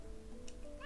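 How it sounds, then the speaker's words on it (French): Brief cat meow in the video game Dog's Life, a short rising mewing call arriving near the end over a low steady background hum. "C'est encore un chat?"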